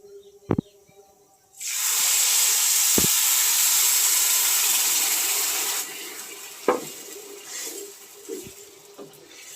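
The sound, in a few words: pouring water into pulao pot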